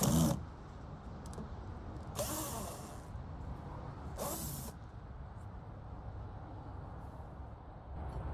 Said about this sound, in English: So I'm going to go ahead and soak them with good old WD-40.